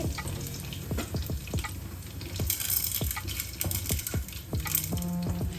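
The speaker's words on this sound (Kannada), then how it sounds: "ಸಾಸಿವೆ ನೋಡಿ ನಿಮಗೆ ಚಟಾಪಟ ಅಂತ ಮೇಲ್ಗಡೆ ಬರ್ಲಿಕ್ಕೆ ಸ್ಟಾರ್ಟ್ ಆಗುತ್ತೆ ಎಣ್ಣೆಯಿಂದ" Mustard seeds spluttering in hot oil in a pan, a steady sizzle broken by repeated sharp crackling pops at irregular intervals, close and clear with no talking.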